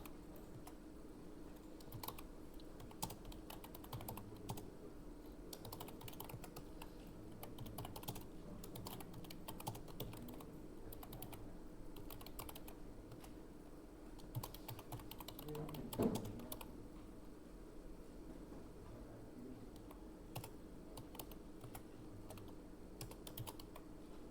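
Place names being typed on a computer keyboard into an MS Word document, a quiet, steady run of key clicks with short pauses and faint room noise.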